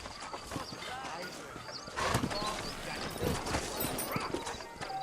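Saddled horses trotting out of a frontier town in the video game Red Dead Redemption, rhythmic hoof clip-clops under a game soundtrack, with a whinny and some talk over the top.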